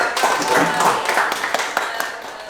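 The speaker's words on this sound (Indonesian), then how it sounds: "terima kasih, tepuk tangan dulu pada" A small audience at an Indonesian community event claps briefly, a light patter of scattered hands with a few sharper taps, fairly near and modest in volume.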